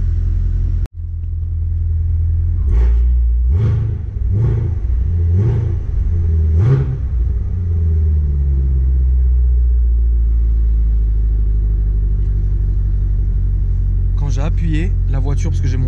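An Equus Throwback car engine rumbles low and steady, punctuated by a series of short revs, then settles before a brief burst of rattly revving near the end.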